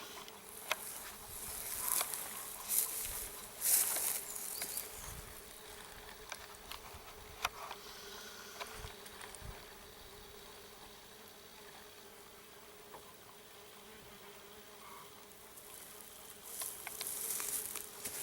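Mason bees buzz continuously around the microphone, a busy humming drone with individual insects swelling louder as they pass close, and a few soft taps.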